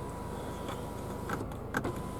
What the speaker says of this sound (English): You've got the power blind, so if you ever want to close it all up,